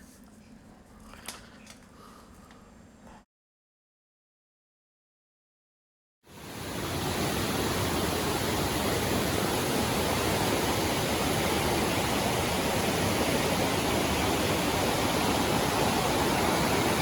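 Steady, loud rushing water from Noland Creek in the Great Smoky Mountains, swollen by recent rain, fills the scene after a brief quiet gap, a broad continuous roar of a fast-flowing creek nearby.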